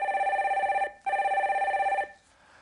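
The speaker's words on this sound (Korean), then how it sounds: "2부 첫 번째 전화 연결 빨리 받아볼게요" A telephone rings for a call-in to a live stock-advice broadcast, two long loud trilling bursts separated by a short gap, then quiet.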